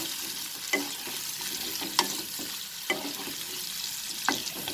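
Raw papaya frying in oil over a medium flame, a constant bright sizzle with a few sharp clinks and scrapes of a spatula stirring the pieces at uneven intervals.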